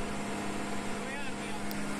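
A Kubota tractor engine drones at full throttle around 2000 rpm, a loud continuous rumble with a constant low hum, with someone speaking over it.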